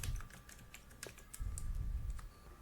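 Fingers tapping a computer keyboard while entering code, a quick irregular run of close, soft key clicks over a low background rumble.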